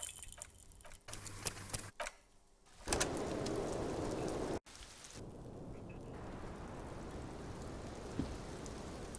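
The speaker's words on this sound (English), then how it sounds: "what brings you up here in the rain?" Rain falling in the video game Disco Elysium: a steady hiss of rainfall that comes and goes in sections, with faint bird calls and low rumbles, fairly quiet throughout.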